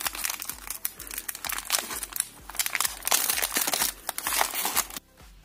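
A plastic-wrapped AliExpress parcel is handled and torn open up close, giving loud, rapid crinkling and crunching bursts that run for about five seconds before stopping abruptly.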